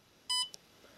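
A single short, clear electronic beep from the keypad of a Bartlett RTC1000 kiln controller, followed by a faint click in an otherwise quiet room.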